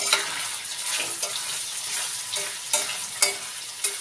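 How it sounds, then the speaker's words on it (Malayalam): Paneer masala fries steadily in a pan, a continuous close sizzle with occasional louder crackles and light stirring scrapes throughout. "ഇത് കുറച്ച് ഫ്രൈ ആയിട്ടുണ്ടേ"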